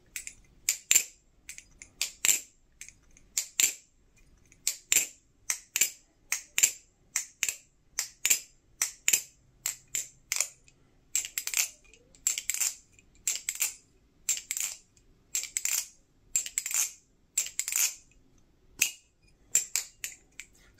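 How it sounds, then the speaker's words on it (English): An aluminum balisong trainer, unlubricated, is flipped repeatedly, giving a steady stream of sharp, bright metallic clicks and clacks in quick rhythmic bursts, close up with no talking. "So here's the dry sound test."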